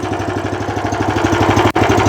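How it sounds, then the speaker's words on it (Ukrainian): Motor Sich walk-behind tractor with its engine running steadily in reduced first gear, a loud, close, even putter with a regular pulsing beat and one brief dip near the end. "покажу, що таке мотоблок Моторсіч на зменшеній швидкості"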